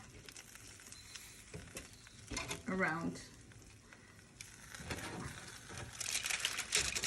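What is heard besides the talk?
meat sizzling on a grill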